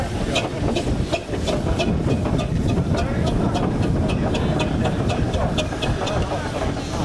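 Big steam traction engines at a steam rally field, a steady rhythmic chuffing with regular sharp exhaust beats over a broad rumbling hiss, close and loud with continuous crowd and machinery noise.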